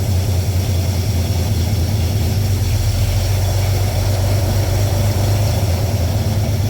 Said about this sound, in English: it bogs down, that's the compressor comes on